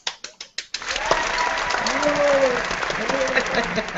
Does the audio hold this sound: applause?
yes